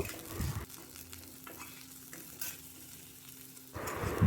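Crushed ginger and garlic frying with onions in a little sunflower oil make a soft, steady sizzle, with stirring clatter at the start and end and a faint hum in between.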